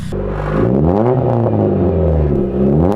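A 1997 Saturn SL2 sedan drives past up close with a loud, steady engine drone that rises in pitch as it accelerates. The revs dip briefly and then climb again across the pass, with no talking.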